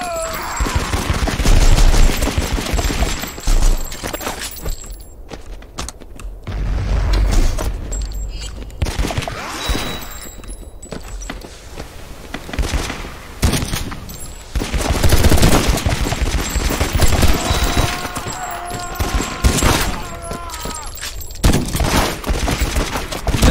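AK rifle fire in the video game Soldat 2, loud rapid bursts and sustained automatic volleys repeating throughout with brief gaps, mixed with game effects.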